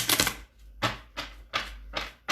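A deck of small tarot cards is shuffled firmly by hand, giving several loud riffling bursts separated by short pauses, close up with no voices.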